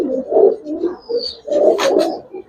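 Highflyer pigeons at a pigeon fair, cooing in a few low, throaty bursts close by, with a brief rustle near the end.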